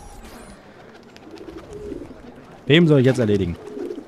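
Pigeons at a dovecote in Assassin's Creed, a loud burst of throaty cooing near the end after a stretch of quieter talking, close and full.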